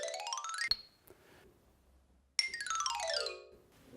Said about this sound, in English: And occasionally composers ask us to do a glissando.